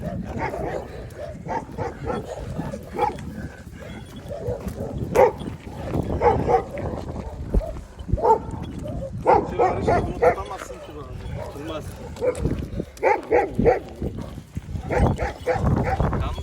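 Several dogs, including an Anatolian Shepherd Kangal, bark and yip in bursts, some close and some farther off, mixed with someone talking over them.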